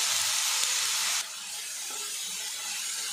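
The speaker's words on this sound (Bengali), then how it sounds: "এবারে এর মধ্যে দিয়ে দেবো গ্রেট করা বাঁধাকপি।" Grated cabbage goes into a pan of fried garlic and onion, giving a loud, steady broadband sizzling hiss that drops to a softer, even sizzle after a moment, with no talking.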